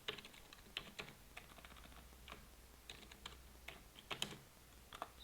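Computer keyboard keys tapped in uneven bursts of clicks at close range, steady typing with short pauses over a faint low hum, no voices.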